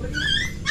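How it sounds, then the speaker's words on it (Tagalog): A dog lets out a short whining, drawn-out yelp close by, lasting under a second, with a second brief cry at the end. "May maraming aso dyan."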